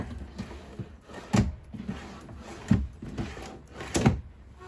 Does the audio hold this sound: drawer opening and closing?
yes